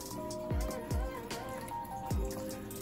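Warm water pours and splashes into a tub for bathing a Burmese python, with a few distinct drips and plops over a low running trickle, close by.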